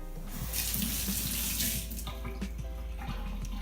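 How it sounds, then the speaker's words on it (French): A tap runs steadily and close into a sink, rinsing a jewellery chain and ring, with the water splashing continuously and nothing else heard. "Je vais rincer."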